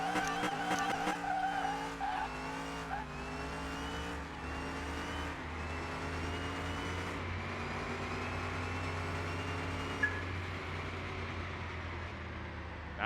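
A 1936 Fiat 500 in a video game drag race, its engine loud and close, climbing through rising harmonic sweeps as it shifts gears, with tire squeal over a steady rumbling drone throughout.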